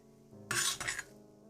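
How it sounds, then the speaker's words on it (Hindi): Khoya being scooped from a pan into a dish, a short close scraping rasp lasting about half a second, alone and fairly quiet. "इसे अब मैं एक डिश में निकाल लूंगी।"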